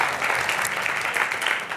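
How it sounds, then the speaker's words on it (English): A short burst of steady audience clapping during a video masterclass talk, dense and even from start to finish with no voices over it. "give me a clap"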